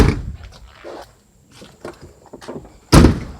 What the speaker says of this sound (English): Okay, we're going to shut the doors.